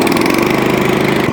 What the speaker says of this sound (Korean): 시동 걸리는 푸르릉 소리가 나면은 스로틀 레버를 토끼 위치로 옮겨주시고 스타트 버튼을 다시 누릅니다.